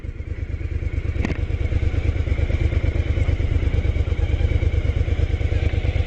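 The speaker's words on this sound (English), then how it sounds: "We are mounting the bike and we're ready to go." Motorcycle engine running close by, a steady rapid throbbing with a faint clatter, loud and even as the bike gets under way.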